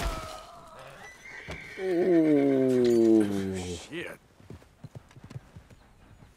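Video game horse neighing loudly in a long descending whinny, with clip-clopping hooves around it, followed by scattered hoof and movement sounds as a man exclaims briefly.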